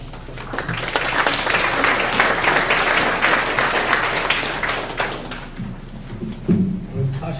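An audience at a community school-district workshop gives sustained applause that fills the room for about five seconds before tapering off. Talk follows once the clapping dies down.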